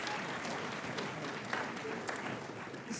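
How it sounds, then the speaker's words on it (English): Audience applause at a white coat ceremony, a steady wash of clapping filling the room at moderate volume, with a few brighter individual claps standing out. "So there should be much more applause at that particular point in time."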